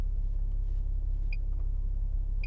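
A 2020 Toyota Supra accelerating hard from 0 to 60 mph gives a steady, loud low engine rumble that holds for the whole stretch, with two faint high chirps near the end.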